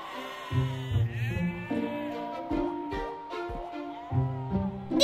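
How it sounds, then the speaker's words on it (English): Sheep bleat repeatedly in an animated farm scene, several loud, close, wavering calls following one another with short gaps between them. "Come on, sheep, let's go inside!"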